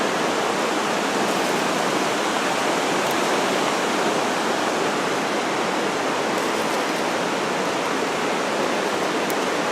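A river rushes along a trackless valley near Carbonado, a loud, constant broadband roar of flowing water close by with no voices.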